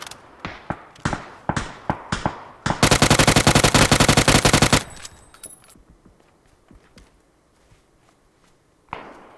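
Gunfire from the video game PUBG: a string of separate sharp shots, then a dense, loud sustained burst of automatic fire lasting about two seconds, followed by quieter clicks, footsteps and one last distant shot.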